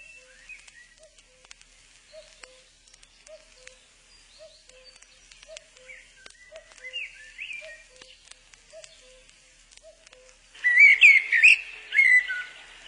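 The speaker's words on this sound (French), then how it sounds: "Ce que nous venons d'entendre, c'est un merle." A blackbird sings in woods at dusk, its fluting phrases faint and distant amid sparse chirps, with a louder, brighter burst of song close by near the end.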